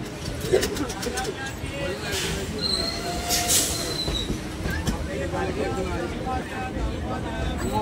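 A train pulls into platform 2 at Palashi station, its wheels letting out thin high squeals over a steady rumble of rolling stock and faint crowd murmur.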